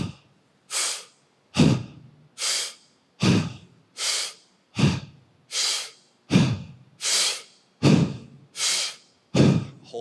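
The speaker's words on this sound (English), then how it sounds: "You're going to be forceful with an inhale through your mouth," Forceful breathwork with sharp inhales through the mouth and exhales out, close and loud. The breaths come in a steady, fast alternating rhythm, about one per second, with no speech.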